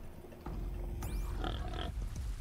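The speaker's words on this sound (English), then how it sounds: "I have to get rid of that pig somehow." Boar in the video game Horizon Zero Dawn, a few close rough pig-like grunts and snorts over steady game ambience, along with a brief swooshing effect.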